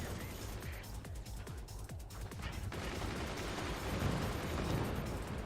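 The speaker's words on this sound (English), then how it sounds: "The mortars are landing." Mortar shells land in the Forts real-time strategy video game, a continuous rumbling barrage of rapid thuds and explosions, with someone speaking over the gunfire.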